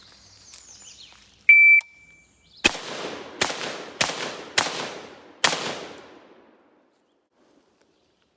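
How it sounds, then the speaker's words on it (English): Five rifle shots fired at a target at 25 yards with a PTR 91 or M4A1, sharp loud cracks in quick uneven succession, each with a short ringing decay, preceded by timer beeps. "We'll put 5 shots, hopefully, on the target at 25 yards."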